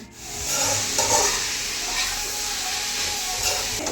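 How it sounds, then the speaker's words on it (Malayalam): Sliced onions sizzling in hot coconut oil, with a little salt added, while cooking chicken varattu: a steady close hiss of frying runs throughout, with faint stirring clatter. "വെളിച്ചെണ്ണ ചൂടായ ശേഷം സവാള ഇട്ട് കൊടുക്കണം."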